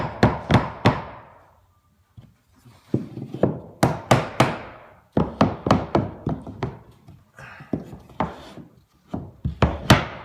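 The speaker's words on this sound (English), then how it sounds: "tap them up until they come into place like that" Repeated sharp hammer taps on wooden crown molding, tapping it into place, coming in quick bursts of two or three blows with short pauses, close and fairly loud.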